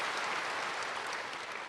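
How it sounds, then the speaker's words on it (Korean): A church congregation breaks into applause together, a dense, steady clapping that fills the space evenly for the whole moment without pause. "하나님께 영광의 박수."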